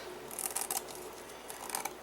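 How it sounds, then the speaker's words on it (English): Scissors snipping and trimming cardboard for a painted-bird junk journal craft, with a few quick, light cuts in two short bursts, close and fairly quiet. "I'll probably take some scissors and just try to trim down this just a little."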